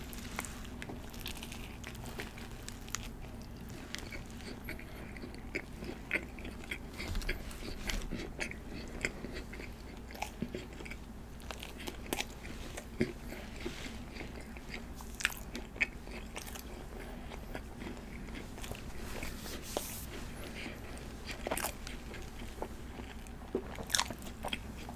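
Close-up chewing and biting of Panera white cheddar mac and cheese, with soft wet mouth sounds and occasional crunchy bites repeating steadily throughout, no talking.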